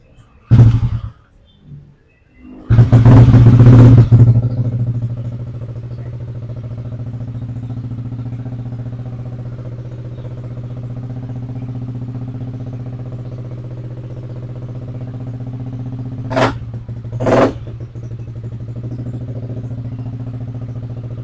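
A Yamaha Aerox scooter engine cranks briefly, then fires up with a loud burst and settles into a steady idle, with a couple of short throttle blips later on, close and continuous.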